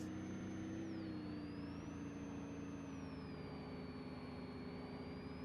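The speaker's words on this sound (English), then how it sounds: "And the turbo is very loud though." Loud, steady whine of the turbo on a BlueBird A3RE bus engine in a driving game, a high sustained tone rising and falling over a constant engine drone.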